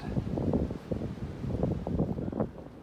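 Strong wind gusting across open unbroken snow on a winter backpacking hike, a steady loud roar buffeting the microphone in rolling surges with no talk.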